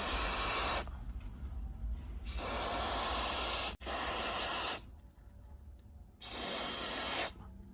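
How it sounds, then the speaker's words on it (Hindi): AEROL multipurpose silicone spray hisses from an aerosol can onto a car's AC vent in four close bursts of about one to one and a half seconds each, separated by short pauses. "मैं आपको बता दूं कहाँ का स्प्रे करनी है"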